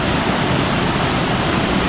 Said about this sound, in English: this seems kind of dangerous, this one waterfall we're at